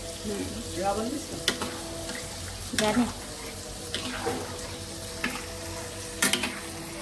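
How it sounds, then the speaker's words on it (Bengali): Meat fries in butter with a moderate sizzle beneath repeated clanks and scrapes of a utensil against the pan, while faint voices murmur in the background. "আর এখানে মাংসটা ভাজা হচ্ছে যে বাটার দিয়ে দিয়েছে জুবা"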